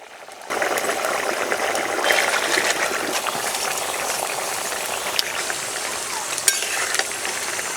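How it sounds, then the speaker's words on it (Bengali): Fish curry broth with spring onion stalks at a vigorous boil in a pan: a dense, steady bubbling and sizzling hiss that starts abruptly and stays loud throughout, with a few small clicks. "ঝোল ফুটে উঠেছে, এবার দিয়ে দেবো পেঁয়াজ কলি"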